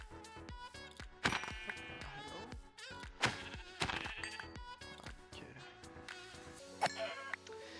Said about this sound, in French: Ah, des moutons, on se fait un lit.